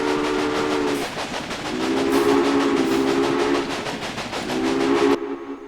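A train runs in the Railway Empire video game, with a loud steady rumble under a repeated steam whistle blowing in long tonal blasts that stop and restart, ending abruptly.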